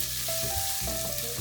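Onion base for an Indian sweet potato and lentil soup frying in olive oil, a soft steady sizzle under a brief stirring scrape, with a faint tonal hum running through.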